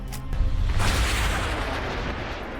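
A high-powered rocket launching toward 10,000 feet and Mach 1.5 above a ranch: a deep, roaring rumble that swells and sustains loudly before slowly easing off.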